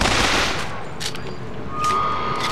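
A machine gun fires in Bioshock Infinite as a loud, rapid burst at the start, then trails off into lighter scattered shots and faint clatter.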